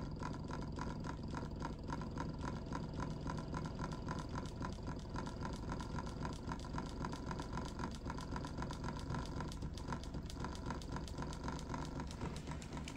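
A homemade pulse motor rotor fitted with six magnets spins steadily, producing a continuous close whirring hum with a fast, even pulsing texture that holds at one level throughout.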